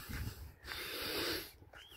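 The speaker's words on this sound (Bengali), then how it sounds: "লম্বা শ্বাস নিচ্ছি" A person takes one long, deep breath during an outdoor walk on a green belt, a soft, fairly faint drawn-out rush of air between quieter moments.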